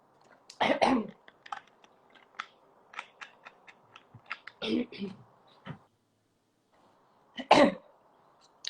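A few rough coughs burst out, one early, one midway and one near the end, with quiet talking in between.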